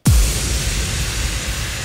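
A massive impact hit in a future house music track opens with a deep, booming thud that drops quickly in pitch, then trails into a loud, sustained wash of noise with no voice.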